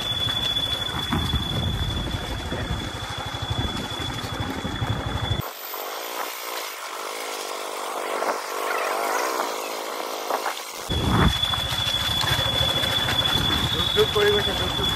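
A motorcycle engine drones steadily while riding along a rough forest road through dense jungle at Duwarmora, with a buzzing, whining tone and wind rush in the middle stretch.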